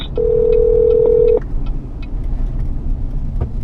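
An OnStar call connects inside a 2015 Chevrolet Colorado Z71, a steady loud electronic tone sounding for about a second over the low hum of the cabin, followed by faint clicks.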